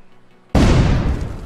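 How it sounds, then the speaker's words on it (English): A grenade goes off in the Hand Simulator video game: half a second of near silence, then a sudden loud blast that roars and slowly tails off. "Ryan, you pulled the pin on my own grenade!"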